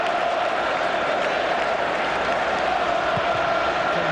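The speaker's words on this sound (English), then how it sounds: "Mr. Slade acknowledges the applause" Leyton Orient supporters fill a stadium with steady, dense applause at a League One play-off final against Rotherham United, a continuous roar of clapping with no break.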